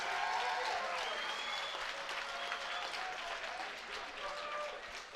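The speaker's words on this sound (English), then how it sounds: "How about a round of applause for these two fighters and one hell of a fight," Crowd applause for two fighters after a three-round combat sports bout, steady dense clapping and cheering throughout, with a voice carrying over the noise.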